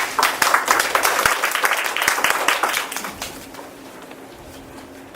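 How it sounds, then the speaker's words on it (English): Applause welcomes a new member at a January meeting: a burst of hand clapping from a modest group, brisk and fairly close at first, then thinning and fading out over the last couple of seconds. "So let's welcome her with big applause."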